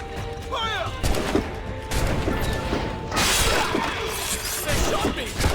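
Cannon blasts and gunshots in Assassin's Creed Rogue boom and crack amid a loud, chaotic ship battle, with shouting voices throughout.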